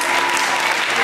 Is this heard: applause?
yes